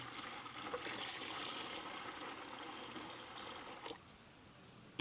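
Water, about two litres, pours steadily into a Harpic weedkiller mixture, a continuous splashing trickle that stops abruptly near the end.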